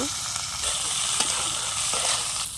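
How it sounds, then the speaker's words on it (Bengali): Large river prawns, dusted with turmeric and salt, fry in hot oil in a wok, a loud continuous sizzle and hiss close by with occasional sharper spits. "তেলের মধ্যে চিংড়ি মাছ দিলাম।"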